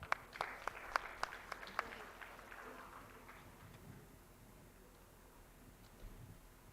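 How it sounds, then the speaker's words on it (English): An audience at an Indian government event on auctioning critical and strategic mineral blocks claps to welcome a speaker, the applause clearest in the first two seconds and then fading into quiet room tone. "let us welcome Mr. Matthew with a round of applause"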